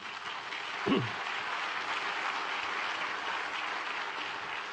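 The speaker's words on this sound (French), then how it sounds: "C'est sympa d'applaudir, mais attendez la suite." A conference audience at a geopolitics debate applauds in a steady, even wash of clapping throughout, and a brief voice sounds near the start.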